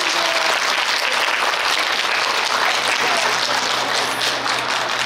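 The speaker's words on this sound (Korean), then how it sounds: "우리 격려의 박수 부탁드리겠습니다" Loud, sustained audience applause at a youth football club founding ceremony, a dense continuous wall of clapping that holds steady for the full five seconds with no talking.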